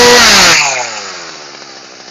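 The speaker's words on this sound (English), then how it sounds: "I brought a gas-powered engine chainsaw, as you can see, just to give you an idea of the noise that these have." A gas-powered chainsaw engine roars loudly up close, then the revs fall away and the engine winds down to a rough, sputtering idle over a couple of seconds.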